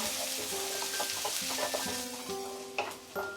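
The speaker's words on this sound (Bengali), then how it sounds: "এবার এটাকে আমি 1 মিনিট ফ্রাই করব মিডিয়াম আঁচে" Chopped ginger and onion fry in oil over medium heat, making a continuous close sizzle with light stirring taps and a couple of sharper knocks toward the end, alone without voices.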